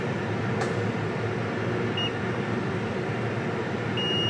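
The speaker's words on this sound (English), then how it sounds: "Can you hear the beep?" Multimeter continuity tester sounding while probing a MacBook A1989 logic board for a short, giving two brief thin beeps over a steady background hum.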